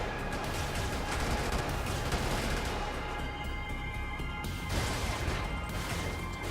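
Heavy main cannon of a big mech firing in the video game Brigador, a dense, loud barrage of booming blasts and crashing impacts that fills the whole stretch with no talk.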